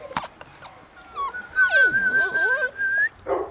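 Eight-week-old puppies whimper and whine in long, wavering high cries, close and clear, with a few short yips at the start and end.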